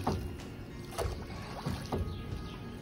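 A rowing boat moves on Lake Ohrid near Sveti Naum. Soft, rhythmic oar strokes splash about every half second over quiet outdoor ambience.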